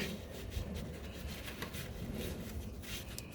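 A cloth rubs and wipes a part clean during an oil change on a 2017 Acura RDX, a steady close scrubbing with soft repeated strokes and no talk.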